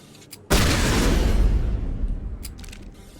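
A single loud shotgun blast from the video game Mass Effect, a heavy broadband boom that rings out and decays slowly over a couple of seconds, followed by faint clicks.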